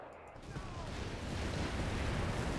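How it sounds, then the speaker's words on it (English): Distant artillery barrage in Company of Heroes 3, a dense, continuous rumble of shelling that swells slightly and holds steady for a few seconds, with no distinct individual blasts standing out. "Lots of artillery coming on in."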